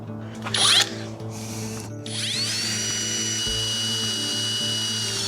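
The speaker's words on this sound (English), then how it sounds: "I start with a smaller drill bit and increase in size until I end up with around a 1/2 inch size hole" Power drill boring a hole in a Toyota 4Runner steel frame rail with cutting oil, the bit spinning up after a brief start and holding a steady, loud high whine with some rattling.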